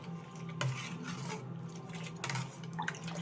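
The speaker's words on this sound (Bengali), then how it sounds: "এইভাবেই অনেকক্ষণ ধরে নাড়িয়ে নেবেন" Milk being stirred for yogurt in a steel pot, a steady scraping rub of spoon against metal with faint liquid swishing and a few louder strokes, close and continuous.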